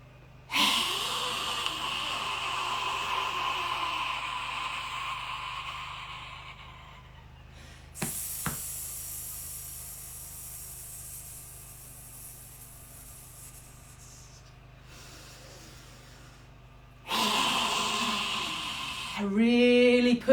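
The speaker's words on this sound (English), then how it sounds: "Really push it out like you're breathing out the toxicity from the lungs." Forceful qigong breaths pushed out from the diaphragm, long hissing exhales in a quiet room, three loud breathy bursts separated by calmer stretches.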